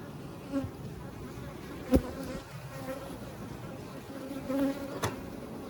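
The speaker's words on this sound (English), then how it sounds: "And then I'm going to just take out these bees from here." Honey bees at an opened hive hum in a steady low drone close by, with a few sharper buzzes as individual bees pass near, and no talking.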